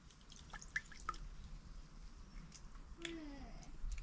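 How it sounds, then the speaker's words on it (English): A live clam squirting water, heard as faint close drips and small liquid spurts over a quiet outdoor background, with no talking. "See, it's squirting water out at me."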